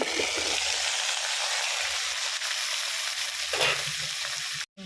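Onion, dry red chillies, garlic and curry leaves fry in hot oil with a loud, steady sizzle that holds nearly unbroken, a low rumble underneath, then cuts out briefly near the end.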